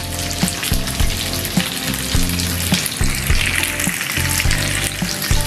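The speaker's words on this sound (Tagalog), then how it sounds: "itong ating tokwa ay kailangan prituhin muna natin hanggang sa mag-golden brown na siya" Tofu fries in hot oil until golden brown, crackling and sizzling loudly and steadily up close, with occasional stirring scrapes and no voices.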